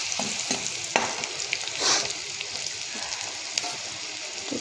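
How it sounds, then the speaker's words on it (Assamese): A pan of food seasoned with turmeric and salt fries until reddish, with a steady, fairly quiet sizzle broken by occasional stirring scrapes and taps. "এতিয়া অলপ ৰঙচুৱা হোৱালৈকে ভাজি ল'ম।"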